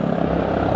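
A helicopter landing nearby at the seaside in Skegness, a loud, steady rotor and engine roar filling the whole moment with no talk.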